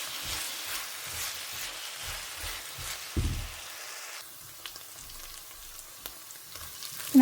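Onions sauté in a pan for a restaurant-style curry gravy, a soft continuous sizzle with occasional stirring scrapes, one louder clatter partway through, and a brief knock at the end.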